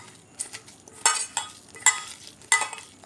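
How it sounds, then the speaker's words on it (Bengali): Baby corn being hand-mixed in a bowl with Kashmiri chili powder and cornflour, giving soft squelching, rubbing strokes with a few light clinks, in brief bursts close by. "কাশ্মীরি লঙ্কার গুঁড়ো দিয়ে দিলাম, কর্নফ্লাওয়ার দিয়ে দিলাম, ভালো করে মেখে নেব।"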